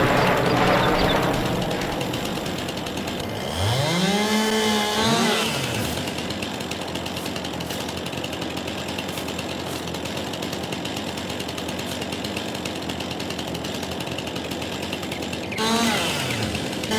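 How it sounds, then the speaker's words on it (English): Chainsaw felling trees in the farming video game Farming Simulator 22, a buzzing engine revving up in rising and falling sweeps, holding a steady drone, then revving again near the end, loud and close. "Just grab the chainsaw and just get this going."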